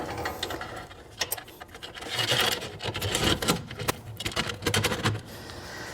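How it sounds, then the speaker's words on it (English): The front fence rail of a Laguna F1 Fusion table saw slides along over mounting bolts, making close scraping and rubbing metal sounds with small clicks and knocks. "slide it over the bolts"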